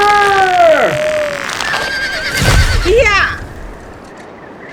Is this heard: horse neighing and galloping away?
yes